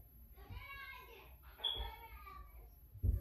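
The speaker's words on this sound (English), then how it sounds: "I know y'all hear my kids playing" Young children playing indoors at home, their high chattering and babbling voices carrying through a few seconds at moderate distance, with some thumps and bumps mixed in.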